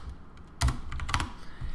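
Code being typed on a computer keyboard, a short quick run of crisp key clicks with a couple of louder keystrokes, close and alone without speech.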